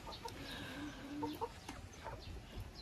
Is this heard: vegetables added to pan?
no